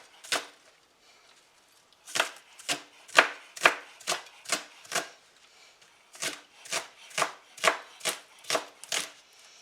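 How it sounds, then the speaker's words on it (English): A knife chops green onions on a board in two quick runs of close, crisp, evenly spaced strikes separated by a short pause. "we're going to add the green onions. I need to sharpen my knife."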